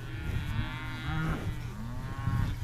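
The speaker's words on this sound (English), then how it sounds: "there's a cow" A cow moos in a long, harmonic lowing call, loud and close, with a second drawn-out moo following in a farm setting by trees and a lake.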